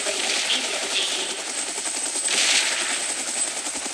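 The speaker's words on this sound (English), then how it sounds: "Chopper in position." A helicopter in the video game PUBG Mobile moves into position, its dense, steady rotor chop and roaring engine filling the scene at close range and fairly loud, with no voices.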